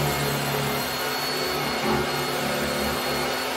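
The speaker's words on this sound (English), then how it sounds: "I am using that to route for wires." A router fitted with a half-inch cutout bit cuts wiring channels in wood during an ambulance camper conversion, giving a loud, steady, unbroken high-pitched whine that holds throughout with no talk.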